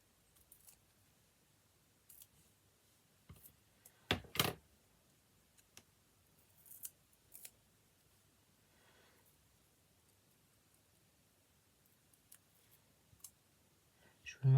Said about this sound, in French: Je vais m'amuser à couper autour.